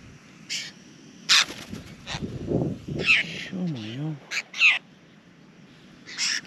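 A flock of about ten wild birds gathering around a cycling campsite in South Australia, giving repeated close caws and calls, with a person talking among them.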